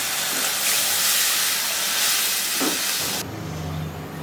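Water is poured into hot oil with turmeric powder and spices while cooking banana kofta curry, setting off a loud, steady, broad sizzling hiss that cuts down sharply near the end to a softer simmer.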